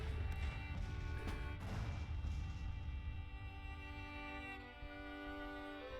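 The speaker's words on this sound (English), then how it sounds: "as we bomb their fort" Artillery bombardment of a Virginia State Militia fort in the Civil War strategy game Grand Tactician, a few heavy booms early on fading into a sustained rumble and battle din.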